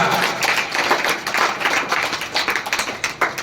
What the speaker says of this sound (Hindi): फिर से जोरदार तालियां